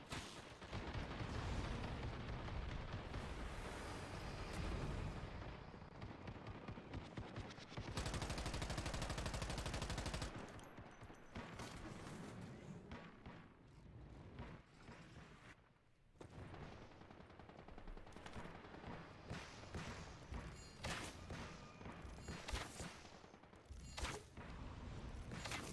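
Dense bursts of gunfire fired at a boss in the video game Once Human, rapid shots and heavy booms layered over a loud, busy battle din that rises and falls.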